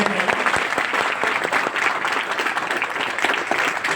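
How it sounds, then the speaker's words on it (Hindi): Loud applause from a seminar audience: dense, continuous clapping from many people, close and steady for the whole stretch with some crowd murmur underneath. "एक बार जोरदार तालियां ओपी शर्मा से"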